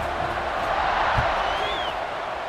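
A college football video game stadium crowd roars during a kickoff, a loud continuous wash of cheering and whoops with a brief whistle-like yell rising above it.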